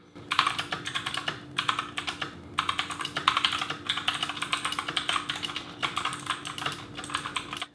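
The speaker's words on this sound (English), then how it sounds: "mechanical keyboards always have that nice sound" Rapid clacky keystrokes from a GranVela mechanical gaming keyboard, typed in bursts with short pauses, close and crisp, with no voices.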